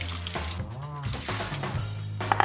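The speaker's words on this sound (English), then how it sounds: "warm your mug first, just with some hot water." Hot water poured from a thermos into a mug to warm it before coffee, a short splashing pour with rising gurgle, heard close and alongside a man's brief speech.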